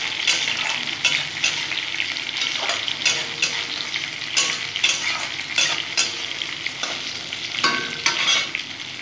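Potatoes sauté in a pan with deseeded tomatoes and four or five green chillies, a loud steady sizzle punctuated by repeated rhythmic scrapes of a spatula stirring.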